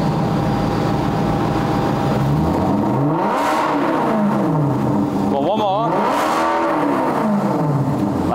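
A Maserati GranTurismo S 4.7 MC engine revs up and down in repeated surges, loud and close, with people talking over the rumble.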